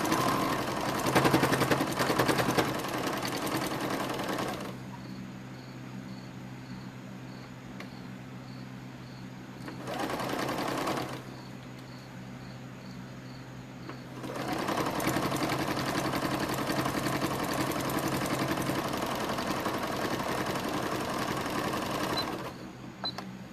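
A sewing machine stitching over a bit of fabric while sewing bats, running in bursts of rapid mechanical whirring with two quieter pauses between runs, close and steady.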